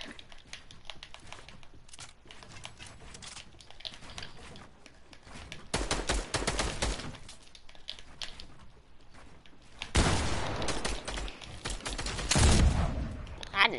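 Rapid bursts of gunfire ring out in a video game, with two dense volleys separated by quieter stretches. Scattered clicks and a voice sit between the shots.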